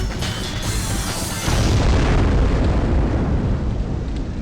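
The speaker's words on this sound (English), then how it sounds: "she just exploded into nothing" Explosion in the video game Stretch Panic, a loud sustained boom that swells suddenly and rumbles on for a few seconds with a dense, roaring low end.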